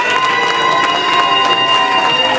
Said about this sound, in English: If you like him, clap, yell. If you hate him, boo.